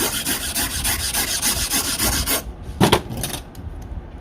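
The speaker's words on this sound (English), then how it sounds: "So now what we're gonna do is we're gonna start filing it down." A wax bezel is filed down by hand in quick, rapid rasping strokes, a close, continuous scratchy rhythm that stops abruptly partway, followed by a single sharp scrape and a few softer rubs.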